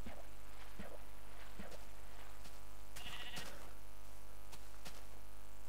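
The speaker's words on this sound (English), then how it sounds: "did you hear like a really high-pitched sheep sound? Like one of the baby sheep?" Several short, high-pitched lamb bleats from a video game come at intervals over a constant low hum, with soft shuffling steps in between.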